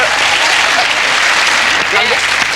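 Studio audience clapping on a TV chat show, a dense steady wash of applause that stays loud and even throughout with no voices rising above it.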